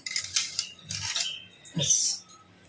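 Washed spoons and utensils clink and rattle as they are put away in a kitchen, in three separate bursts of metallic clatter, close and fairly loud, with no talk.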